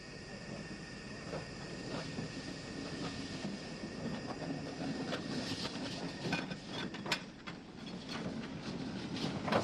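A train rolls along an Irish railway line in the 1950s near Cork's Albert Quay, a steady rumbling run with rhythmic wheel clatter and some metallic squeal, moderately distant with no talk.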